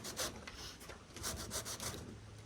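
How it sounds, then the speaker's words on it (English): Black walnut fruit hull rasped against a grater, giving a steady run of close, scratchy rubbing strokes with short bursts of repeated grinding. "I'm just grinding the outer part of the fruit"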